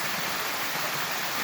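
Water pours out of a tree stump like a small waterfall after weeks of rain, a steady, close, rushing hiss with no voices.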